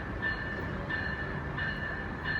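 An Amtrak train rolls past at Bridgeport, giving a steady rumble with a high, faint wheel squeal that pulses at regular intervals. No one speaks.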